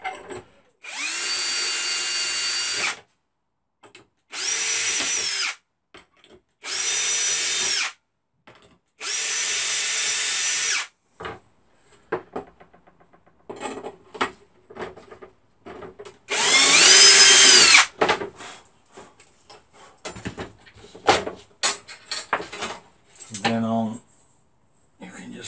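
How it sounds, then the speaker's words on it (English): A power drill whirs in several short bursts, each a few seconds long, drilling holes for a downdraft table guide system, separated by pauses, with a longer, louder burst near the end and some handling noise between. "you can just drill your holes across then."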